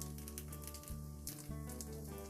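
Vegetable pancake batter with chili pepper frying in a pan over medium-low heat, a steady soft crackling sizzle with fine popping, close and quiet, broken by a brief clatter partway through.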